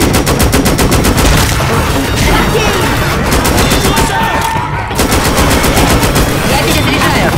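Rapid automatic rifle fire in the shooter game Left 4 Dead 2 with Insurgency: Sandstorm content, loud sustained bursts of evenly spaced shots with one brief pause, close and dominating.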